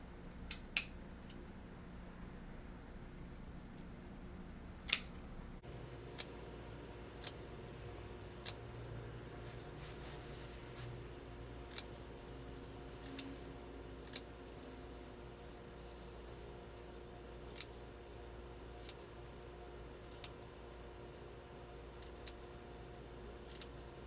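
Scissors snip fringe into a toddler's shirt, a steady series of sharp, close clicks spaced a second or two apart over a quiet room hum.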